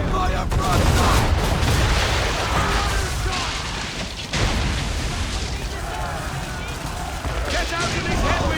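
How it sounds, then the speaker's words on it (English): A ship's cannon broadside in Assassin's Creed III: heavy, continuous booming and rumbling from guns firing together, a short dip midway, then another wave of blasts, with voices shouting over the din. "Fire broadside!"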